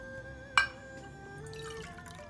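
Water poured from a measuring cup into a pot of rice for sushi, opening with a brief splash and followed by a faint, steady trickle. The sound is quiet and close, with no talking.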